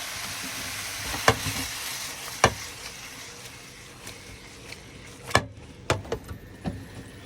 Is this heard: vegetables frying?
yes